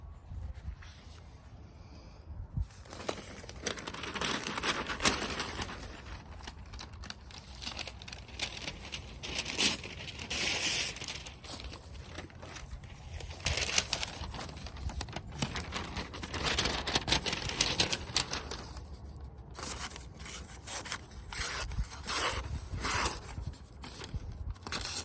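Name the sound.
EDC knife sharpened on a brick cutting paper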